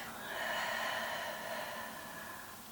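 A long, steady exhale during a Pilates exercise, close and breathy, a smooth airy rush that swells slightly and fades over a few seconds with no talking.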